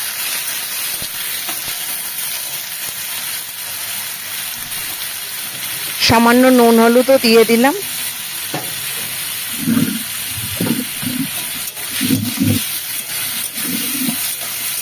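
Shrimp frying in hot oil in a wok, seasoned with a little salt and turmeric: a loud hissing sizzle bursts in partway through and continues in rough surges while someone talks.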